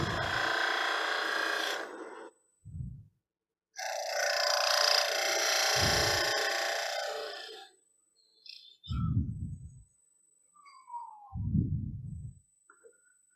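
A lathe tool scrapes and rasps steadily against spinning wood in two long passes while turning a cocktail smoker, with short knocks and light handling noises in between.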